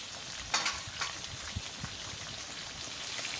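Koi fish sizzle and crackle while frying in a pan, with a few sharp spatters and stirring scrapes over a continuous hiss, close and steady.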